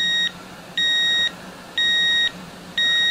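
A Geiger counter held right over a radioactive sample sounds a loud, clear electronic beep about once a second, four identical tones in a steady rhythm with quiet gaps between them.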